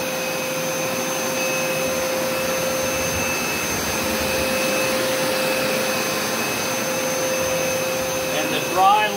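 A carpet water extractor runs in dry-only mode, a loud steady vacuum-like roar with a thin whine held close throughout, no talking.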